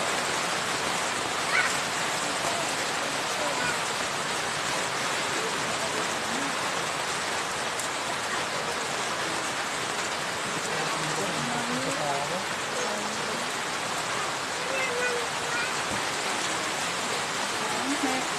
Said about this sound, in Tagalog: Lakas talaga ng ulan guys.